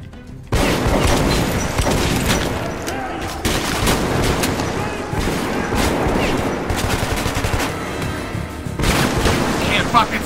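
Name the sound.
grenade explosion and gunfire in video game Metro 2033 Redux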